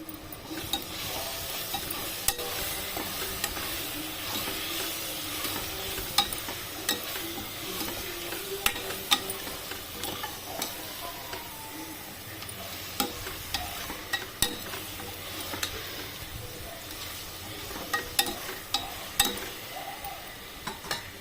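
Chili powder masala frying in oil is stirred continuously in a pan for a prawn curry, with a steady sizzle and frequent small scraping ticks of the spoon against the pan.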